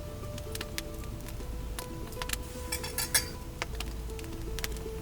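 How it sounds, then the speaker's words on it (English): Dry flour, salt and baking soda stirred together in a bowl, heard as light clinks and scrapes of a utensil against the bowl over a steady low background hum, with no talking. "and then stir them to combine."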